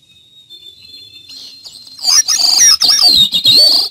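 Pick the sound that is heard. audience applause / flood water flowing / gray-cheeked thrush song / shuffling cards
gray-cheeked thrush song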